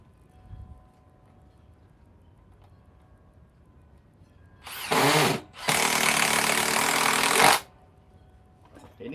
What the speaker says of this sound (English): The other one I'm gonna have to grind out.